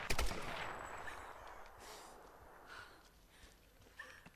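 Gunfire in Tomb Raider opens with a loud, rapid burst of recoiling shots. It then trails into quieter scattered pops and faint rustling, and no one speaks.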